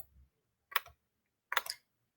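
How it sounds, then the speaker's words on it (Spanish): Brief bursts of typing on a computer keyboard, two quick clusters of close, light key clicks separated by silence, with no talk. "puedo escribir por el teclado"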